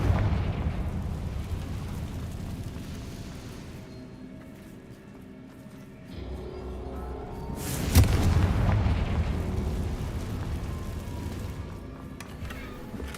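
A Confringo blasting spell detonates in a Harry Potter video game, a single loud booming explosion midway through, with a rumbling low tail and ambient game background before and after.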